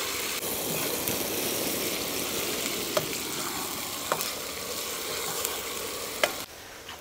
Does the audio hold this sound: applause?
no